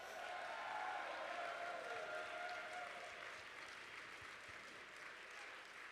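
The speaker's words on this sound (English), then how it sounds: "Let's everyone stand up and give a huge round of applause." An audience gives a sustained round of applause at a company launch event, a dense, steady wash of clapping that stays even for several seconds.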